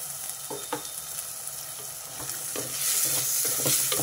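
Broad bean seeds sizzle in a pan with ginger and garlic while being stirred, giving repeated scraping strokes over a steady fry that grows louder and brighter toward the end.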